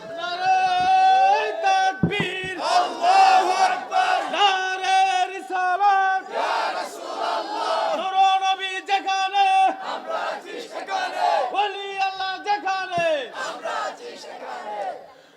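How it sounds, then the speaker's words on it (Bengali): A large crowd at a Bengali religious sermon (tafsir gathering) loudly chants a slogan in unison, rhythmic repeated shouted phrases with strong, sustained voices filling the space. "একটা স্লোগান দেন দেখি, পাগলা স্লোগান।"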